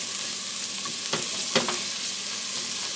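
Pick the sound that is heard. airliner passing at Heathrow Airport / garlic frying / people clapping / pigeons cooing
garlic frying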